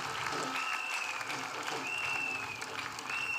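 Applause from a congregation at a French-language evangelical preaching and testimony gathering, a dense steady wash of clapping filling the room, with faint voices and a sustained high tone running through it.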